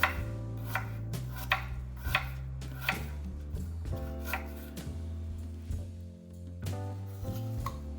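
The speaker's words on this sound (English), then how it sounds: "we're gonna go ahead and just chop up the apple into small pieces" A knife chops a peeled apple into small pieces on a board, giving a steady series of sharp, close chopping knocks with a few brief pauses.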